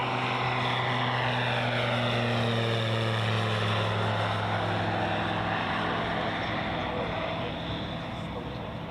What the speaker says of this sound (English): we have Cub Aircraft, which Gary was flying around